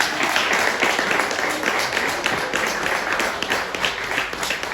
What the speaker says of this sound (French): Applaudissez-vous tous